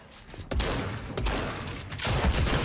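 Suppressed guns firing in Fortnite, with a new silenced SMG and silenced AR: several muffled bursts of shots, close and fairly loud, with brief gaps between them.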